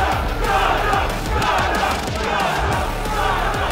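A loud crowd at a professional fight event in Podolsk cheering, shouting and clapping as a fighter enters, a dense continuous roar filling the hall.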